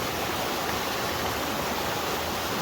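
A stream pours over a small waterfall in a steady, dense hiss of rushing water, close and unbroken, with no voices.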